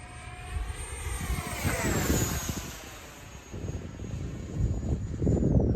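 An FMS 70mm Viper RC jet with afterburner comes in hot: a loud, rushing turbine whine with a sweeping pitch shift as it passes, then fading and swelling again as it stays near.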